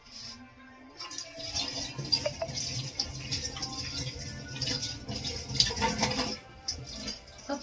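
Tap water runs steadily while a rolling board (chakla) is washed in a home kitchen sink, with light rattles and clatter of the board against the basin throughout, close and continuous.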